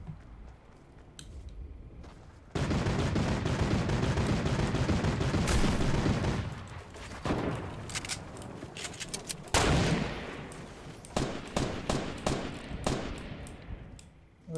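Gunfire in a Fortnite Battle Royale duos match, with sharp sniper-like cracks and scattered shots over a dense roar of noise, ending in a string of rapid reports.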